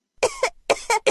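Coughing sound effect played when the control key is pressed in a keyboard learning game, a series of close, sharp coughs in quick succession, loud and clear against silence.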